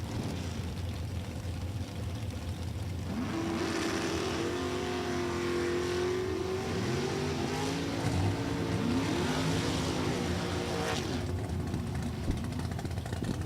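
Chevy-powered Diamond chassis dragster roaring down a drag strip in a Super Comp final, its engine note sustained and loud for about eight seconds with rising harmonic pitch sweeps before dropping back to a steady background rumble.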